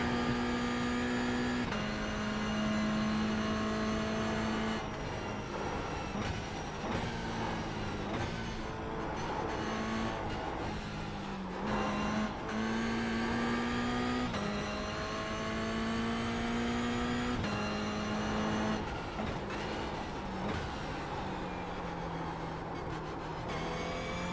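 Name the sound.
race car driving in iRacing video game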